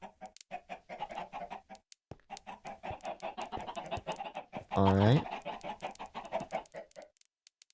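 Minecraft chickens cluck in short bursts over steady game noise, ending in a loud, clear squawk, while someone talks throughout a Redstone lava chicken build.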